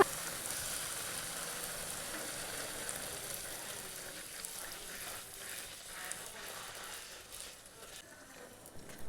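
Puris made with Aashirvad atta fry in hot oil, giving a continuous faint bubbling hiss and crackle that fades slightly toward the end.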